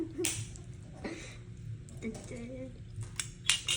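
A spoon clinks against dishes in a series of sharp, close taps and scrapes while people talk nearby.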